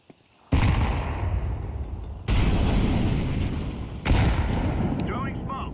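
Loud, close video-game grenade blasts, three heavy booming bursts each with a long rumbling tail, arriving in sequence amid continuous battle noise.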